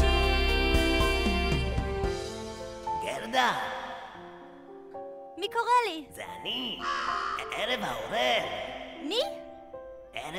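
A voice imitates a crow in a circus-theatre stage production of The Snow Queen, giving several loud, rising and falling caws over fading music.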